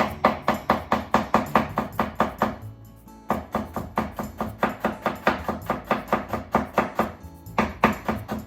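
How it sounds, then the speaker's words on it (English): A knife chops quickly on a cutting board, cutting very thin diagonal slices and then thin strips for a hijiki seaweed salad, with rapid, evenly spaced taps that pause briefly twice. "I want to make very thin strips, so make very thin diagonal slices first. Then into strips."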